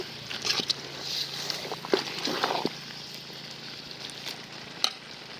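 Ground masala sizzling and frying in a pan for boti gojju, a steady close hiss with a few soft stirring scrapes and clicks, no talking.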